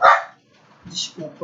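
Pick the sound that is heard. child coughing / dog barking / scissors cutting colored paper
dog barking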